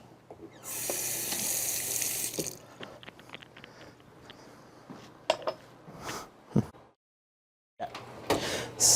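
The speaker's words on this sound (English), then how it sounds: "Give this a rinse." Tap water running into a kitchen sink to rinse something while making muffin pizzas, a steady hiss lasting a couple of seconds, then scattered clinks and handling sounds with a brief silence.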